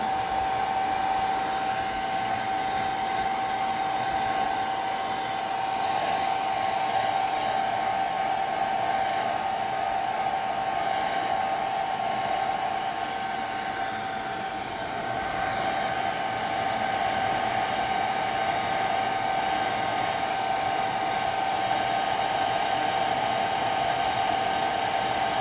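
A hair dryer blows steadily and loudly for the whole stretch, a continuous whooshing hum used to dry a painting made with wine as the paint medium, with no talking over it.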